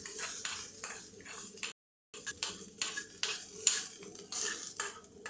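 Metal spoon clinking against a bowl while stirring thecha into curd for dahi chatka, a close, rhythmic series of sharp scraping taps with a brief silent gap.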